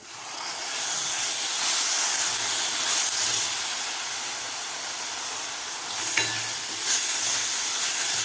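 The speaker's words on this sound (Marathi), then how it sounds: "आता टोमॅटोची प्युरीसुद्धा आपल्याला व्यवस्थित 2 मिनटं परतून घ्यायची आहे" Tomato puree sautéing in a pan for a spicy Maharashtrian amti, a steady bright sizzle and hiss with occasional stirring scrapes, close and continuous with no talking.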